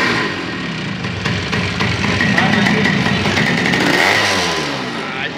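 A Yamaha RX 125 motorcycle engine starts and revs close by, a loud two-stroke buzz rising and falling through several throttle blips, with people talking over it.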